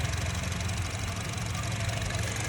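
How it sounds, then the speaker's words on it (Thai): A Honda City 1.5 automatic car engine idling smoothly, a steady, even hum with a regular low pulse and no speech over it. "เครื่องยนต์ก็เดินเรียบนิ่งเงียบเลย"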